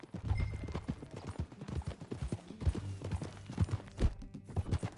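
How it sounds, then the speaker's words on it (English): Rhythmic clip-clop of horse hooves at a steady trot in the PS4 game Red Dead Redemption 2, fairly close, with a brief snort or whinny; no talking. "That new horse?"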